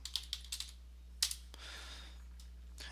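Keystrokes on a computer keyboard while filling in an eBay listing: a quick run of close, crisp clicks, a louder isolated tap, then a few scattered presses over a steady low electrical hum.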